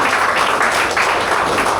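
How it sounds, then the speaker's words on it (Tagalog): A church congregation applauds during a worship service, a short dense burst of steady clapping filling the room at close range. "Ibigay po natin yung the best na palakpak para kay Lord."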